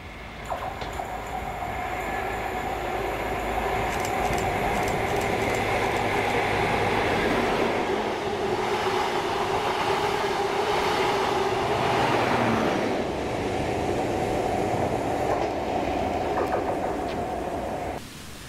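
ScotRail train passing through Dalmeny station, a sustained loud rumble and rattle of wheels on track with a rising and falling roar that continues steadily for the whole stretch.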